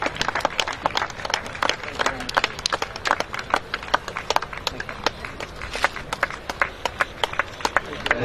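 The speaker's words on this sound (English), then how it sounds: "Big round of applause, ladies and gentlemen." Spectators at an 8-goal polo final give a round of applause, sharp individual claps standing out in an uneven, lively patter, with voices mixed in at moments.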